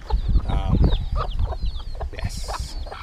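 Farmyard chickens cluck and squawk in a busy, close cluster at feeding time on a Barbados farm, with overlapping calls and scratching under steady barnyard noise.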